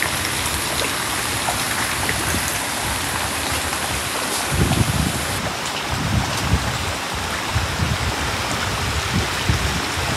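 Turbulent river water spills over small waterfalls in a channel rebuilt to slow a violent flow, making a steady, broad rushing roar with no breaks and no voices.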